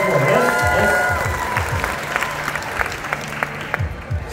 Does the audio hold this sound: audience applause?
yes